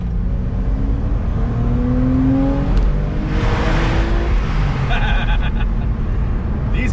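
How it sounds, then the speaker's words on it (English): A 1998 Porsche Boxster's engine revs up inside a tunnel, a loud, steady drone rising in pitch with echoing road noise from the enclosed space, and a brief higher whine near the end. "These cars, they love to rev."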